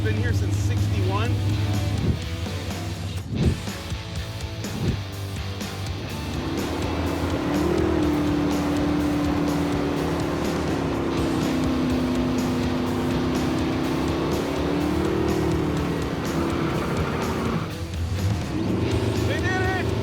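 Barn find Pontiac Firebird running down an old historic drag strip, a loud close engine roar that builds into a sustained high-revving pull lasting several seconds before easing off, with people talking over it.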